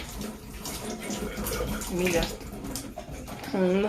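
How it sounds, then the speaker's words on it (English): Tap water runs steadily while an apple is washed at a kitchen sink, a continuous splashing stream under a voice speaking nearby. "Sorry, I'm washing for my baby apple."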